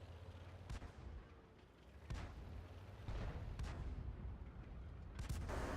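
Tank cannon fire in a tank combat video game, several heavy booming shots spaced a second or so apart over a low rumbling background, fairly distant and muffled.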